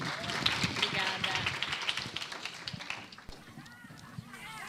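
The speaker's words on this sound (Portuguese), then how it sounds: "Excelente palestra. Salva de palmas." Applause from a lecture audience fills the space, a dense spread of clapping with crowd murmur, fading after about three seconds as a voice begins speaking.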